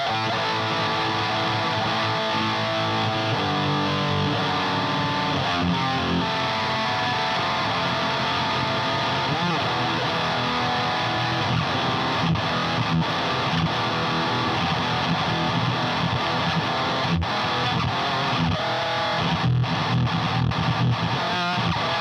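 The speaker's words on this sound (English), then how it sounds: "Let's add distortion and see what happens." An electric guitar run through an Electro-Harmonix Metal Muff distortion pedal, with the distortion turned up high, plays dense, heavily saturated sustained notes and chords, loud and unbroken throughout, with no voices.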